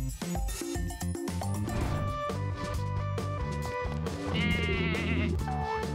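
A goat that has climbed onto a table in a cartoon castle bleats in quavering cries over loud, continuous background music.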